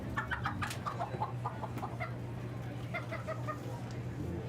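Chickens at a poultry showmanship contest at a state fair cluck repeatedly in short, bright bursts over a steady low hum of the hall, with busy background noise throughout.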